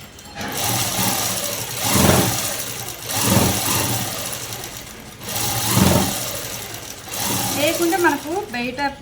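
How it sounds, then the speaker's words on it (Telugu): A sewing machine stitches a folded cloth strip in short, close bursts of whirring separated by brief pauses, with a voice talking around it. "ఈ క్లాత్ అనేది కొంచెం ఇలా మడిచి అనేది కుట్టు అనేది వేసేసుకున్నాము."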